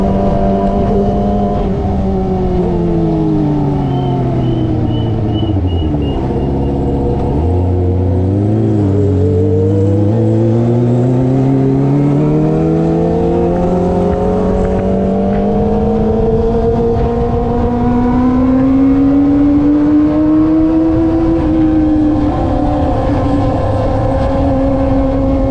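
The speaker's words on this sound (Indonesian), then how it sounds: "Motor aja bacot banget ini suaranya ya, apalagi nanti kalau kita rame-rame." A Kawasaki ZX25R motorcycle with an SC Project exhaust roars close and loud, its high-revving engine rising and falling through gears over roughly twenty-five seconds of continuous riding on a village road.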